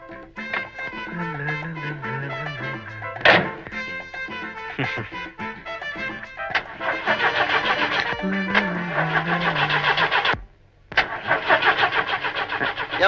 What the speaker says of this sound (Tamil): ஏன்பா டிரைவர், வண்டி எப்பப்பா ஸ்டார்ட் ஆகும்?